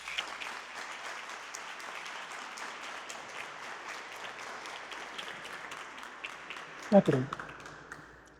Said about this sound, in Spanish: vamos a darle un fuerte aplauso